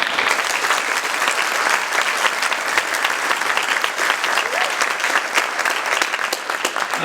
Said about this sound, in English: Please give them all another great round of applause